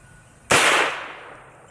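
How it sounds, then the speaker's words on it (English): A single sharp, loud .38 Special gunshot from a Mare's Leg lever-action fired outdoors at a military helmet, a close crack followed by a brief decaying echo. "So this is the 38 special out of mare's leg."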